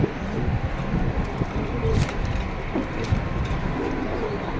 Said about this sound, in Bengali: এগুলো নতুন কবুতর ঠিক আছে